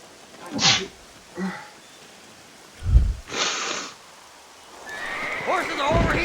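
Horses in the Red Dead Redemption video game on Xbox One whinny and snort in a few short bursts, with hoof sounds and outdoor ambience building toward the end.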